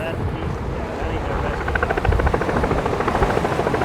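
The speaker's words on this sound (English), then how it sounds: "Oh, that's a news chopper already." A news helicopter flies over a windy coastal inlet during a rescue, its steady rotor chop rising into a rhythmic pulse partway through, layered with wind buffeting the microphone and surf noise.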